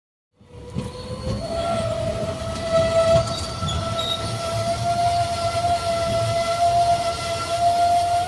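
A train pulls into Lathi railway junction, its steady, loud rumble running throughout under sustained high-pitched wheel squeal, with no voices.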